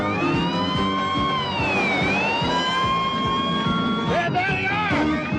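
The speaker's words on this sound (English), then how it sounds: "is that a siren I hear? That or an air raid." Emergency vehicle siren wailing with rising and falling sweeps over a busy background of knocking and engine noise, loud and continuous throughout.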